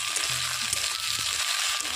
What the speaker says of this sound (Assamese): ভাজি লোৱা শুকান মাছখিনি দি পেলাই মই এনেকৈ অলপ সময় ভাজি ল'ম